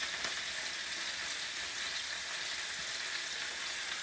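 Scallops sear in a hot pan with no butter, giving a steady, dense sizzle that holds at an even level throughout, close and alone with no voices.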